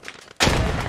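Gunfire in the WWII shooter Post Scriptum during a Battle of Arnhem event: a sudden loud burst erupts after a quiet moment and keeps roaring densely, sounding like sustained machine gun fire with booming blasts.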